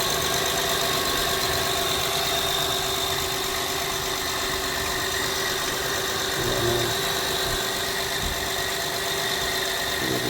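A 2012 Honda Pilot engine, fresh from a timing belt and water pump replacement, idles in a smooth, even, low hum with no rattle, steady throughout and without voices.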